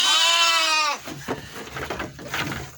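Lambs and ewes bleat loudly at a reunion, one long wavering cry filling the first second, then softer, overlapping bleats and shuffling from the flock.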